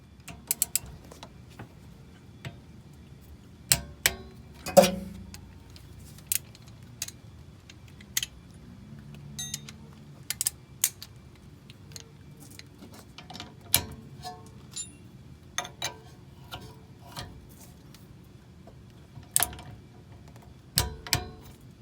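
A wrench tightening the rear brake caliper bolts on a 2017 Toyota Corolla, heard as scattered sharp metallic ticks and clicks at irregular intervals over a quiet background, close but light.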